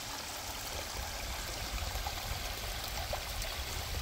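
Steady, quiet rush of water overflowing from a full pond, trickling and streaming, a continuous soft wash with no voices.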